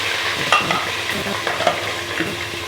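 Sliced onions fry and sizzle in hot oil while a spoon stirs them with scraping clicks, close and fairly loud, as they brown for chana pulao.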